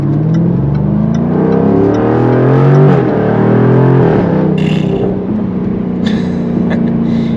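A supercharged V8 engine of a 2024 Jaguar F-Type R75 sports car revs hard, its loud throaty roar rising and falling in pitch, close and continuous with no talking.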